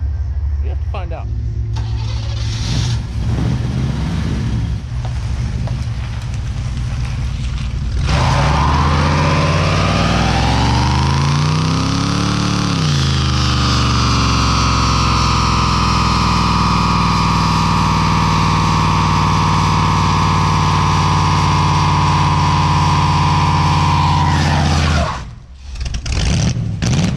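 Engine of an abandoned 1969 Chevrolet Camaro roars loudly through a power brake, revving up in a long sustained howl with rising and falling pitch, then cutting out briefly near the end; voices are heard early on.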